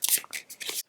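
A deck of cards is shuffled close up for a zombie card game, a few quick riffling bursts of crisp flutter ending abruptly.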